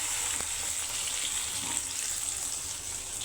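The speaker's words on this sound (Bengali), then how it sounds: "ভিতরে রসটা মচমচে করে ভাজা হবে" Small chara pona fish fry in mustard oil with a loud, continuous crackling sizzle, close up and without speech.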